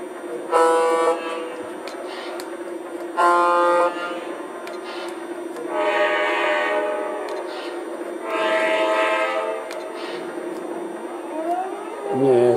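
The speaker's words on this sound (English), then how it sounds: "now let's do the various horns" A series of distinct horn blasts from a Lionel Legacy model turbine locomotive, five horns each held for about a second or two, sounding one after another with brief gaps under a steady mechanical hum.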